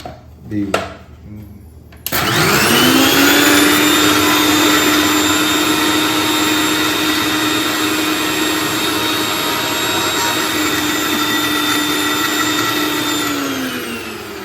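Electric mixer grinder whirs loudly and steadily as it grinds toast into fine powder, a sustained high motor whine running for over ten seconds after brief voices and handling noises.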